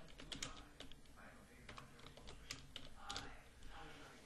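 A station name is typed on a computer keyboard in radio station setup software, giving quick clusters of close, crisp key taps over a faint low room hum, with no talk.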